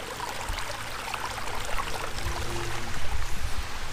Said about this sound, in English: These sudden rains make a lot of water.